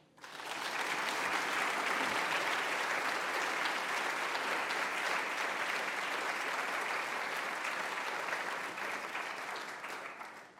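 Lecture audience applauds to welcome Wendy McCarthy: dense, sustained clapping from a full room that holds steady for about ten seconds before tapering off.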